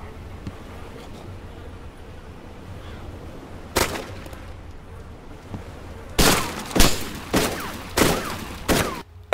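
Five or six sharp gunshots from Arma 2 DayZ Mod, close and loud, with one isolated shot followed after a pause by a rapid string of cracks over a quiet outdoor background.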